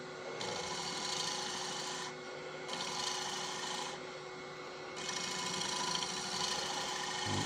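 Wood lathe spinning a piece under a side bevel finishing cut, a steady broad raspy scraping hiss that swells in three long passes separated by brief lighter gaps, close and continuous with no talking.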